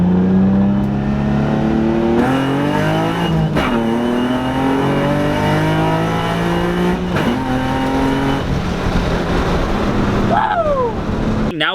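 A car launches at 4,000 RPM and revs hard, climbing through several gear shifts, loud and close, with a brief high squeal near the end.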